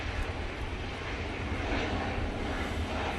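An airplane departs Manchester Airport on a windy day, its engines a loud, continuous broadband roar that holds steady throughout, with no voices.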